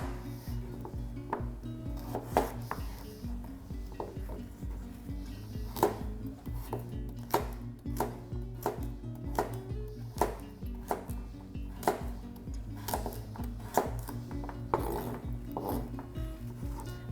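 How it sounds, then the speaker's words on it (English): A knife chops carrots on a cutting board for a ginger chicken and noodle soup, giving a steady run of sharp, close taps over a low, continuous kitchen background hum. "We'll chop the carrots and try and chop them into similar sized pieces."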